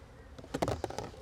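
Honey bees from a strong hive are shaken and bumped into a cup for a Varroa mite check: a few quick, soft knocks and rustles over a faint buzz, all within about a second.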